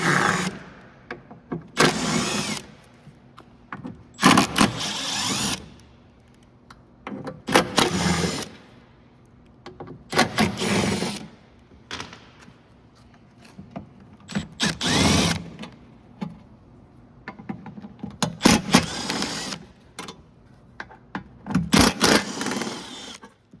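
Power tool whirring repeatedly while cover fasteners are removed from a 21-inch Ego SNT2100 electric snow blower: about eight short bursts of several seconds each, close and fairly loud, separated by quieter handling gaps, with no talk.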